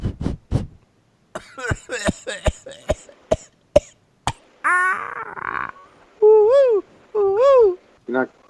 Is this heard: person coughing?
yes